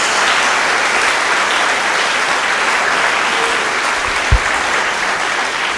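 A church congregation claps together in steady, dense applause that holds loud and even throughout, with a brief low thump near the end.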